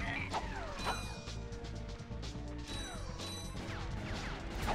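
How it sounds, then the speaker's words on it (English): Metallic clanks, crashes and ratcheting mechanical clatter from wrench strikes on robotic enemies in the Ratchet and Clank video game, dense and continuous with repeated hits throughout. "I like the sound of clanking metal. That just sounds cool."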